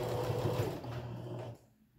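A home sewing machine stitching pajama bottoms runs in a short close whirring burst, then stops and fades to near silence.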